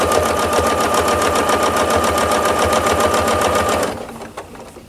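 A sewing machine stitches a table runner in a fast, steady, even whir, running close and loud for nearly four seconds before it slows and stops.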